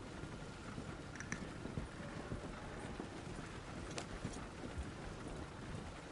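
Steady clip-clop of horse hooves on a hard surface in the video game Red Dead Redemption 2, a continuous trotting rhythm over a dense background of ambient noise.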